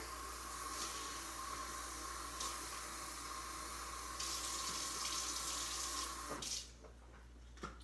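Water runs steadily from a tap with a constant hiss, then shuts off near the end, leaving quiet clinks.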